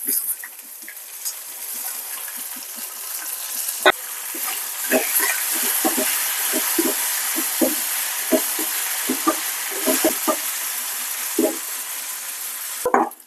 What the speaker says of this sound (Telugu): దోరగా తాలింపు